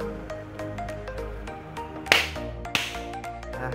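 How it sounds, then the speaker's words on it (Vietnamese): Two sharp hand claps, close and loud, spaced about half a second apart, testing a homemade sound sensor circuit over a steady background hum with faint ticking. "Đây mình thử vỗ tay xem nào."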